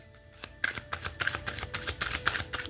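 Tarot cards being handled and shuffled close by, a quick series of soft riffling slaps and flicks in an uneven rhythm, fairly quiet.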